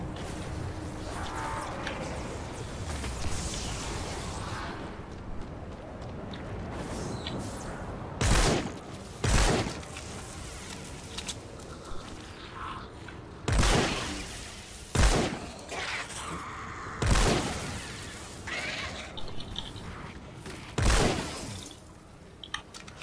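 Gunfire in the Fortnite Save the World game, several loud sharp shots fired singly at irregular intervals over a busy game soundscape with a watery, dripping background.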